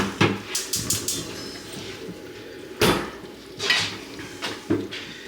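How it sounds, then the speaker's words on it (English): Tomatoes being crushed in a metal pot on a stovetop, with scattered clanking knocks and scraping of a utensil against the pot, several sharp clinks standing out over a quiet kitchen background. "I'm going to go ahead and crush up these tomatoes here."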